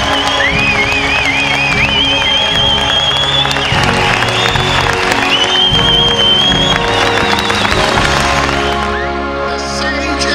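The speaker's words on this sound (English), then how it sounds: "Would you please stand and give a rousing applause for the men and women of our armed forces" A rally crowd gives a rousing standing ovation for the armed forces, broad clapping and cheering with a whistle rising over it, fading slightly near the end.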